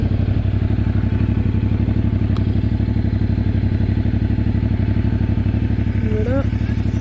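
A CF Moto 450 MT motorcycle, 2025 model, engine droning steadily while riding, a loud, close, evenly pulsing mid-pitched thrum with a brief squeal near the end.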